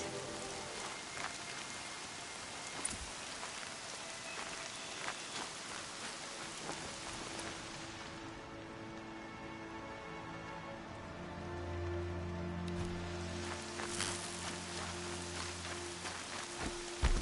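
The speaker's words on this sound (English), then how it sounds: "Rain's not so bad." Steady rain patters on surfaces in Horizon Zero Dawn, a dense even hiss with a low rumble of thunder building in the middle and quiet game ambience.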